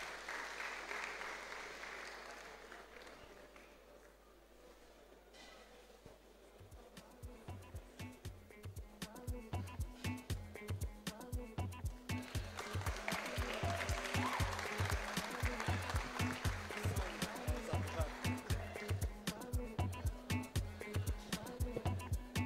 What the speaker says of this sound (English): Please let's keep clapping. Let's keep clapping.